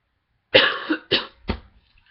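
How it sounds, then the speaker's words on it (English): Three close coughs, two harsh and full followed by a shorter one, in an otherwise quiet room. "Cough."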